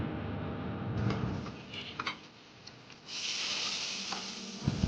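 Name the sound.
hot oil tempering with dried chilies and cumin poured onto vegetables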